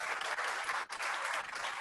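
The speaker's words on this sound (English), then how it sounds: "Let's give her a round of applause." An audience at an evening talk on Morgan's Great Raid applauds a class sponsor, a brief steady burst of many hands clapping, fairly faint and with a short dip midway.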